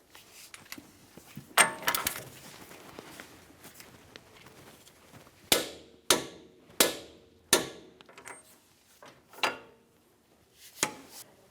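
Metallic clicks and clanks from a wrench being worked on a Ford Flex wheel bearing hub assembly, irregular and close by, with several loud sharp knocks spaced about a second apart and quieter ratcheting between them.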